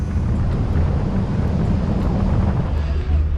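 An Axopar 37 boat runs under way with a steady, heavy low engine rumble buried in constant roaring wind buffeting the microphone, with no audible change in pace.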